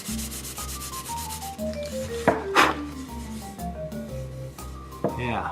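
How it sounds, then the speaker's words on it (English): Handcrafted wooden canoe paddle getting a final hand sanding, close rhythmic rasping strokes of moderate loudness, with a few sharp knocks and a tonal backing running underneath. "I'm going to give that a final little sanding"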